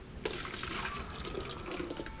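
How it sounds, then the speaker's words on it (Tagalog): Steady water pouring or running from a tap into a pot or container while cooking munggo, a continuous close gushing and splashing sound with no speech. "Tubig siya."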